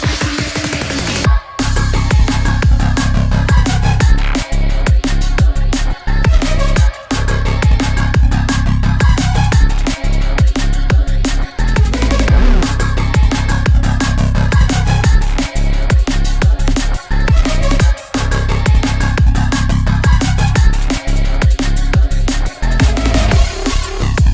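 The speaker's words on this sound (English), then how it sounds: "The song has a drop that sounds like this." A loud, dense drum and bass drop with heavy bass and fast, punchy drums, pounding continuously with brief rhythmic breaks.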